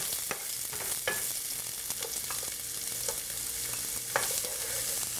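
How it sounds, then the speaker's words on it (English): Onions sautéing in oil for a sweet potato futari make a steady, soft frying hiss throughout, with occasional utensil scrapes and clicks from stirring, close by and with no talk. "We just need to saute the onions."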